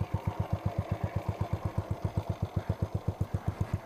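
A 1999 Honda CG motorcycle fitted with a GP Competition exhaust idles close by, its single cylinder thumping in a steady, even, fast pulse that runs throughout with no talk.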